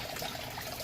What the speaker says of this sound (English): the bell siphon goes to work, and it lets out all the water